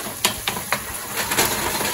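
Beaten eggs shaken and stirred in a very hot skillet for a French omelet, with a steady sizzle under a few sharp scrapes and knocks of the utensil against the pan, close and alone.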